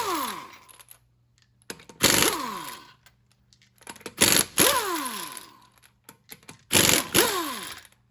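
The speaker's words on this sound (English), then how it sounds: "We're going to start off by removing the 5 lug nuts, of course." Lug nuts come off the front wheel of a Ford Escape SE under a 3/4 socket on a power tool: three loud whirring, ratcheting bursts of a second or so each, with quiet gaps between, close and without talk.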